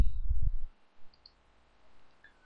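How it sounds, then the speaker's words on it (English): A quick couple of computer mouse clicks right at the start, close and crisp, followed by near silence with a faint room hiss. "Okay, so now let's click on preview again."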